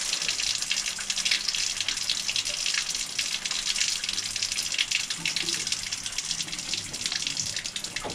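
Tap water runs steadily into a sink as a soapy paint brush is rinsed, a continuous close splashing hiss with slight fluctuations and no talk.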